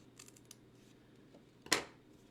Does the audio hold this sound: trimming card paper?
yes